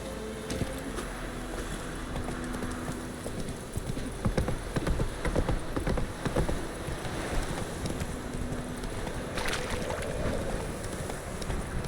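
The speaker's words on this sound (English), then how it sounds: "Whoa there, Roach" Horse hooves clip-clopping at a trot in The Witcher 3 video game, a steady run of hoofbeats over constant wind and ambient game noise, with no talking.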